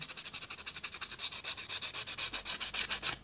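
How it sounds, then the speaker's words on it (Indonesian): Rapid, rhythmic rasping strokes of fine sandpaper rubbing a surface, about seven per second, steady and close, with no talking. "menggunakan amplas yang paling halus ya, menggunakan amplas yang seperti ini kita perhalus lagi"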